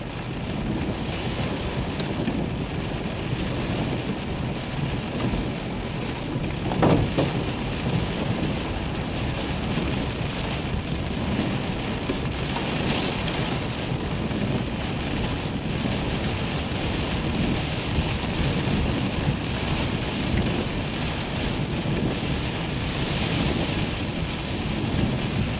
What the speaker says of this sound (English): Weight of the rain on the leaves.